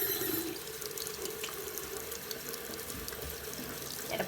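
A faucet runs for hand washing, a steady close stream of water splashing into a sink continuously throughout, with no talk.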